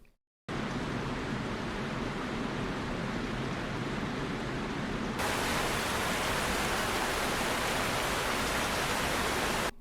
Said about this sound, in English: now she's standing in the rain with no umbrella